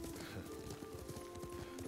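Horse hooves clop at a steady riding pace in the video game Ghost of Tsushima, brief and fairly quiet beneath a low tonal game score.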